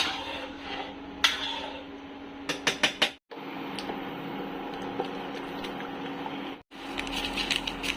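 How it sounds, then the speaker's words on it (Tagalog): Onion and garlic are stirred in a pan that already holds clams, with a utensil repeatedly clinking and scraping against the metal over a steady sizzle and background hum. "Ilagay na din pala natin yung sibuyas tapos bawang. Ayan, haluin muna natin."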